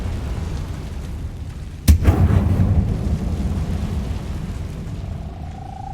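A single Confringo blasting-curse explosion in the Hogwarts Legacy video game, a sharp loud crack followed by a rumbling decay over quiet ambient game sound.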